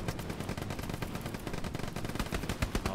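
Sustained automatic machine gun fire in the World War II shooter Hell Let Loose, rapid dense bursts continuing loudly and steadily without a break for the whole stretch, close and dominant with no voices.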